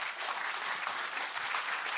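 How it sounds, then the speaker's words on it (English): A forum audience applauds a minister with a brisk, even wash of many hands clapping for a couple of seconds, close and continuous, with no voices over it. "Let's give the minister a big round of applause, okay?"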